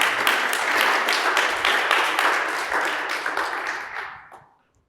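Audience applause follows a startup presentation at a Mars habitat challenge event, a dense burst of clapping that holds steady for several seconds and then fades out.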